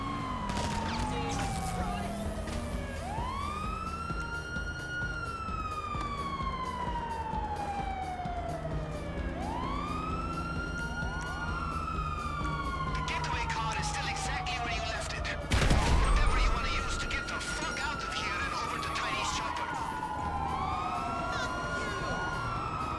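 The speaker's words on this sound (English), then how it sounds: "Yo, I can hear the sirens from here." Police sirens in GTA Online wail in long rising and falling sweeps, repeating continuously and loudly, with a brief thud of a burst partway through.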